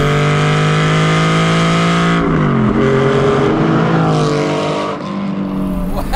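A modified Deman 4.5L Porsche Spyder engine revs through the gears with a loud, low guttural rumble close by, the pitch climbing, dropping at each shift, then climbing again.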